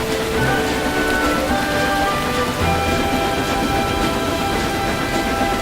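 Steady rain falling in an animated railway scene, with a train hauling slate wagons nearby; a constant, dense hiss of rainfall fills the whole stretch, loud and unbroken, with faint tonal hums running underneath.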